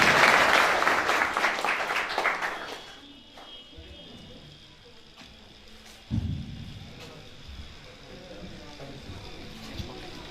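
Loud applause from an audience at a Class 12 farewell event at a coaching institute, a dense burst of clapping that fades after a few seconds, followed by low room noise and a brief bump.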